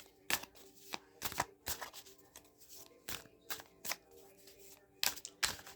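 Tarot-style cards shuffled for a reading, giving a quick series of crisp riffling bursts and soft taps with short pauses between them, close and fairly quiet.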